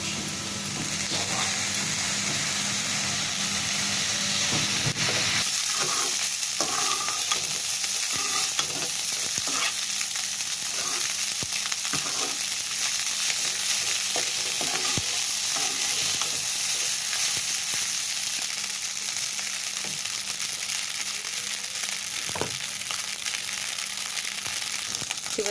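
Egg fried rice stir-fried fast-food style with soy sauce, sizzling steadily in the pan for the whole stretch with repeated scraping and tossing strokes, loud and close, no voices.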